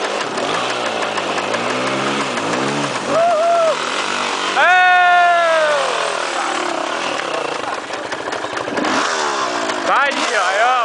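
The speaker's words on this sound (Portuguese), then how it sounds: "A moto não morreu." An off-road motorcycle engine on a trail ride near Rio Manso, revving up and down with rising and falling pitch sweeps, close and loud, while people talk over it.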